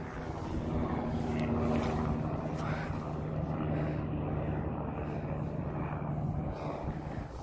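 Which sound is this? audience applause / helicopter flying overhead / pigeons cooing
helicopter flying overhead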